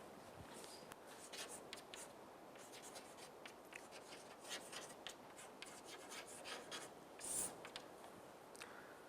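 Chalk or pen scratches steadily across a writing surface during a computer science lecture, faint and close, in quick uneven strokes with no talking.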